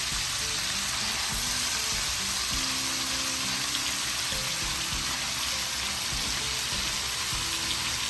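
Washed pumpkin leaves go into shrimp paste frying in a pan, and a dense, continuous sizzle holds steady and loud throughout under a low background hum, with no voices.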